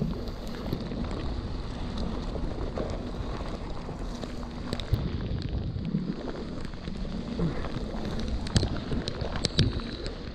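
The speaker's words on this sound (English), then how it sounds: "It's raining so hard, it's actually stinging me." A torrential downpour on the Gabrielino mountain bike trail in Altadena, California, makes a constant dense hiss, with wind buffeting the microphone and occasional sharper knocks.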